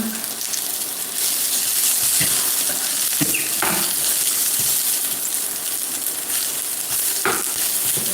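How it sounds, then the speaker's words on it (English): Onion and chili pepper sizzle steadily in a hot pan, a continuous frying hiss broken by several clicking scrapes of a utensil stirring them around. "Onion and the chili pepper goes in."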